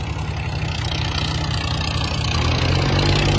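A Swaraj or Mahindra tractor engine runs nearby with a steady low throbbing rumble, holding constant for a few seconds and swelling slightly louder toward the end.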